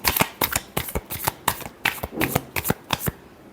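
A deck of tarot cards is riffled and shuffled in quick, sharp bursts, about a dozen crisp flutters in an uneven rhythm, close and fairly quiet with no talking over it.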